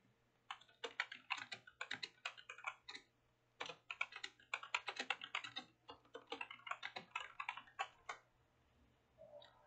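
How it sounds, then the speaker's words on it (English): Rapid clattering keystrokes on a computer keyboard in quick bursts, close and clicky, with brief pauses between runs and a low hum underneath. "I apologize for the loud keyboard"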